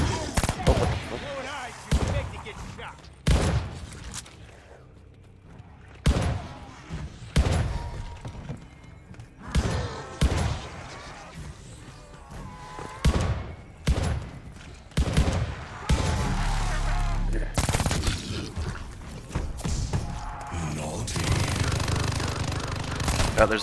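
Rapid, irregular bursts of gunfire and heavy impacts in a Call of Duty Vanguard zombies match, including machine gun fire from a zombie, with dense game noise between the shots.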